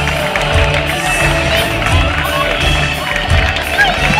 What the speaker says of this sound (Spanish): el aplauso para las tres candidatas que también participaron de esta linda elección de Villanueva